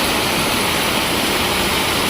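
Heavy morning rain pours down as water floods a farmyard and fields, making a loud, unbroken hissing roar of downpour and flowing water with no voices.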